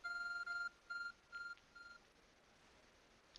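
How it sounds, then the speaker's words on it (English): Beeping of the ARC phone in a Pokémon video game: four short electronic beep bursts in a steady rhythm, each fading a little quieter, then near silence. "Your ARC phone is beeping!"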